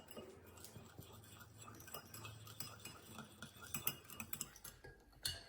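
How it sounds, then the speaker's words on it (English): Cake batter with vanilla essence is mixed in a bowl, a spoon or whisk clinking and scraping against the sides in an irregular, fairly quiet rhythm, with no talk. "Mix it well."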